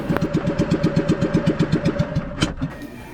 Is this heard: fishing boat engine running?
yes